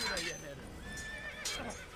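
A horse neighs and whinnies in Assassin's Creed, with hooves clip-clopping beneath as someone talks over it during the short burst.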